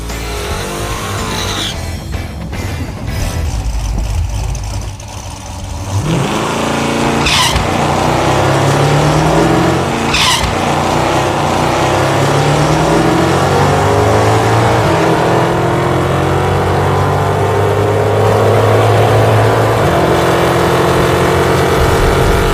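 A 1969 Pontiac Firebird launches down a drag strip, a loud V8 roar rising steadily through the gears for a full pass, with a brief tire chirp at the start and the engine staying close and dominant throughout.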